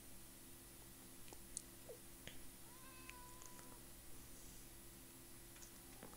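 A cat meows softly in the Minecraft video game, a few faint, brief calls over a steady low background hum with no talking.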